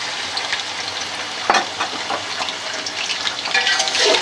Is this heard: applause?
no